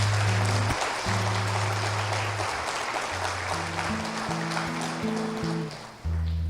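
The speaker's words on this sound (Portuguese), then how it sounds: "Pode aplaudir, irmão." Applause from a church congregation, a dense wash of clapping that holds steady for several seconds under sustained low music tones, then dips near the end.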